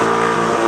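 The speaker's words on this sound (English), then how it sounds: "Right here you notice how really it's only one wheel which is spinning, which is doing an actual burnout." A rear-wheel-drive BMW M140i does a burnout with only one rear wheel spinning, giving a brief, loud, close engine roar at high revs.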